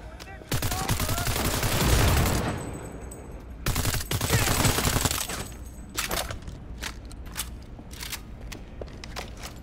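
Rapid bursts of gunfire from the game Cyberpunk 2077, loud, dense volleys of shots for the first few seconds, then a second volley after a brief pause, trailing off into scattered single shots.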